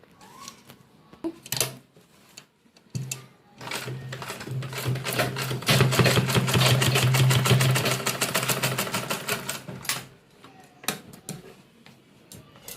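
A sewing machine stitches a vegetable organiser bag, a rapid steady mechanical ticking run of several seconds, with brief stops and short bursts before and after.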